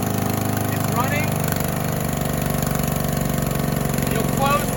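Small gasoline engine on a roof chemical pump, just started after using the choke and pull cord, runs at a steady rhythmic idle close by, with someone talking over it.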